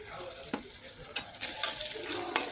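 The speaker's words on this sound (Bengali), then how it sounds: "কড়াইতে তেল দেওয়া হলো, পেঁয়াজ দেওয়া হলো, সামান্য লবণ দিয়ে দেই।" Onions with a pinch of salt frying in oil in a wok, a steady soft sizzle with occasional stirring clinks and scrapes, close and fairly quiet.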